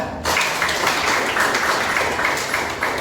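A primary school class claps together in a religion lesson, a brief, loud, dense burst of hand clapping that starts abruptly and holds steady.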